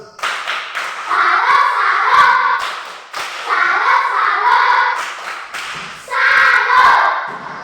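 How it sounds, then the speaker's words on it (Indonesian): A classroom of students performs a rhythmic salute clap, three bursts of patterned hand clapping and thumps, each with chanted voices, separated by short pauses. "1, 2, 3. Tepuk salut."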